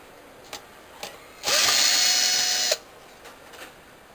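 A power drill or driver removes screws from a Korg 01W/FD keyboard, with a few short clicks, then one steady, loud whirring burst of about a second, then more faint clicks and handling noise.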